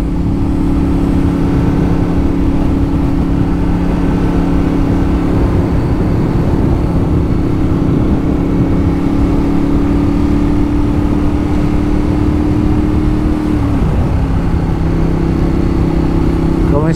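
A motorcycle rides on fresh Pirelli Rosso Corsa 4 tyres to warm them up, its engine holding a loud, steady mid-pitched drone throughout, with a brief dip in revs near the end.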